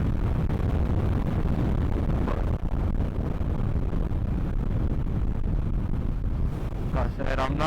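Yamaha XMAX 300 scooter at full throttle, a steady loud roar of engine and wind rush through New York City streets, continuous across the ride with a brief dip midway and a voice near the end.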